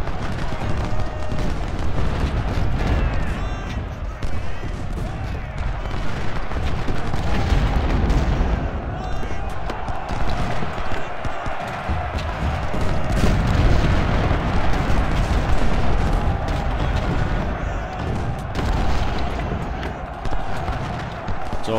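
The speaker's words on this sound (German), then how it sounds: "Hier, Kanonen. Aufstellen." Cannon and artillery fire in the Civil War strategy game Ultimate General: Civil War, a dense continuous rumble of booms and distant volleys rolling through the whole stretch with a constant battle din.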